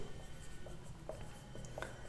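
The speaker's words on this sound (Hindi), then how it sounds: "चलिए लिखते हैं बेटा क्वेश्चन" Marker or chalk scratching on a classroom board while a physics question is written out, a few short faint strokes and taps in a quiet room.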